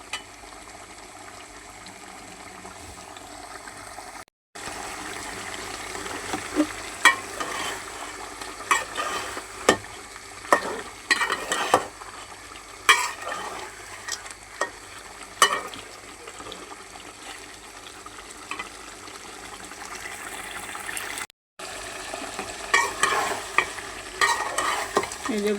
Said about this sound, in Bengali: এই যে গরুর গোস্তটা আমি ভালো করে কষাই নিতেছি।